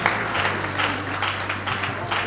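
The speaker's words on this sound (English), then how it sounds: "Please, a round of applause for Stephanie Benson." Steady audience applause at an awards ceremony honouring outstanding women, a dense wash of many hands clapping at close range with no pauses, over a faint low hum.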